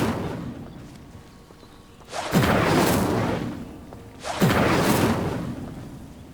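An Incendio fire spell in Hogwarts Legacy sets dry vines alight, with two loud whooshing bursts of flame a couple of seconds apart, each swelling and then holding as a roar.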